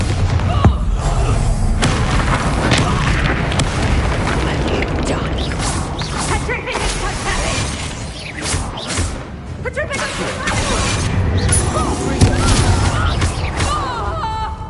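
Bombarda spell explosions in Hogwarts Legacy combat, dense booms and crashes with mechanical clatter running throughout, layered over continuous game music and effects at steady loudness.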